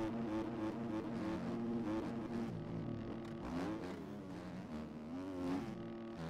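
A Suzuki motocross bike engine in the MX Bikes video game revs steadily and loudly throughout, its pitch rising and falling with gear changes as the race goes on, with no talking.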